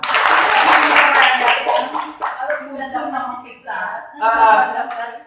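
A seminar audience at a small-capital business mentoring session gives a short burst of applause that quickly thins out as a voice carries on talking over and after it.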